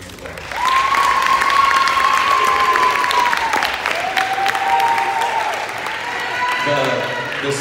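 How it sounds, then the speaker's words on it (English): Audience at a girls' basketball banquet breaking into sustained applause, loud and dense for several seconds before thinning slightly, with a voice speaking over it throughout. "I want to give her a round of applause"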